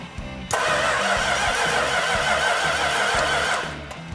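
A Plymouth 'Cuda V8 fitted with a very large cam cranks over, the starter churning steadily for about three seconds with a loud rhythmic chug before stopping, heard up close with no talk.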